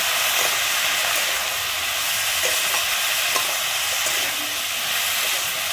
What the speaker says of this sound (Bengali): আমি সবজিটা দিয়ে কিন্তু খুব ভালোভাবে পেঁয়াজের সঙ্গে আর তেলের সঙ্গে মিশিয়ে নিচ্ছি